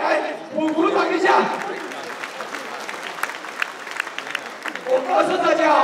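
Crowd applause rings out at a Taipei thank-you tea reception, loud and sustained across the room, with cheering voices and a speaker's talk rising over it near the start and end.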